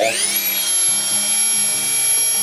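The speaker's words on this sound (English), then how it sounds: "with my rotary tool, I can go ahead and carve out this hole" A rotary tool with a carving bit bores out a hole in reindeer antler, spinning up to a loud, close, high-pitched whine that holds steady while the bit grinds into the antler, with no talk.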